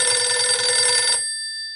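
A mobile phone rings with a bright electronic tone that sounds steadily, then stops abruptly with a short fading tail.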